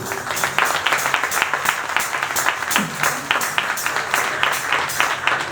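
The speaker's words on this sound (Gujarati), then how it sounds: "હજુ તાળીનો અવાજ ધીમો આવે છે" At a community ceremony honoring an elderly couple, an audience claps in a fast, dense, rhythmic burst that stays loud and even throughout, with a voice briefly audible over it.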